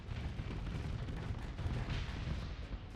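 Ships firing weapons in the space combat game Starsector: a dense, continuous rumble of overlapping gunfire and booming blasts, steady and fairly quiet, with no talk.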